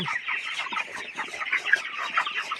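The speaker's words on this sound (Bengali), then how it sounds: "আলহামদুলিল্লাহ মুরগির বয়স আজকে 23 দিন চলতেছে" A flock of 23-day-old broiler chickens on a poultry farm: a dense, continuous chorus of soft clucks and cheeps, moderately quiet, with no voices.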